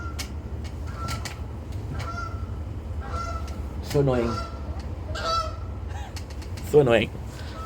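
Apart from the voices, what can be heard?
Canada geese (outarde) honking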